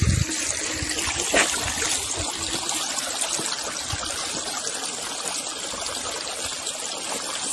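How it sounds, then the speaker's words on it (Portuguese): Water flowing in a natural stream where traíra and lambari fish live, a continuous close, even rush and trickle with no talk. "Natureza pura, né? É barulho da água."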